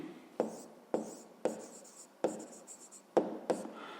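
Pen strokes scratch across paper while figures are written down for a fifth-grade math exercise: a steady series of short, close scribbling bursts with brief pauses between them, and no talking.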